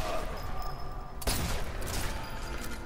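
Gunfire in the World War II sniper game Sniper Elite 4, a sharp loud shot partway through over rattling background fire, moderately loud with no talk.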